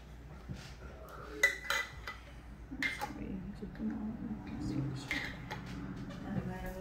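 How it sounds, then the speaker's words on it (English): Metal canning lids set onto glass jars, light clinks and taps of metal against glass scattered through, with a person talking throughout. "Okay, so ultimately you're just centering the lids onto these jars."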